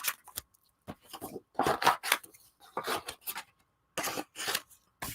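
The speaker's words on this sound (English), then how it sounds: "then we'll get the little scissors to fussy cut" Small scissors snip paper in a series of short, close crisp cuts, fussy cutting for a 3D collage shadow box, with brief pauses between bursts; no talking.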